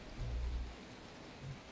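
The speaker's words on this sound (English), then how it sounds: "So now there is some proper rain coming down." Steady rain falling on the wet Spa circuit in the rFactor 2 racing game with a Mercedes GT3, a soft continuous hiss with low rumbling swells, quiet and even throughout.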